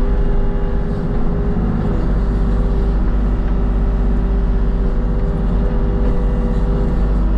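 A small backhoe's engine running at half throttle while digging out stumps, a loud, close, steady diesel drone with a deep rumbling low end, unbroken by speech.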